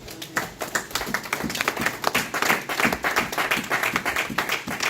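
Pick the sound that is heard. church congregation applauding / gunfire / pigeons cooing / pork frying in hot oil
church congregation applauding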